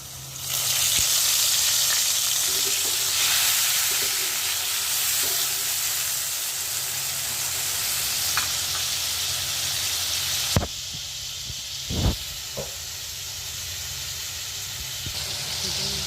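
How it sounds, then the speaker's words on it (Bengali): Fried potatoes hissing in a pan as water with cooked-down spices is poured in, a loud, broad, steady sizzle that later drops slightly, followed by a few sharp stirring knocks, close and continuous. "ঠিক এই পর্যায়ে মশলা কষানো জলটা দিয়ে দিচ্ছি।"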